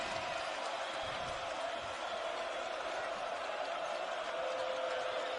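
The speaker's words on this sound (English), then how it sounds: "Crowd in a frenzy right now." A Boise State NCAA basketball arena crowd roars in a frenzy, a loud, unbroken wall of cheering and crowd noise that holds steady throughout.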